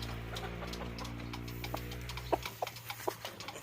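Battle-tested fighting cocks in a small backyard make a few short clucks, faint to moderate, over a constant low mechanical hum that cuts out partway through.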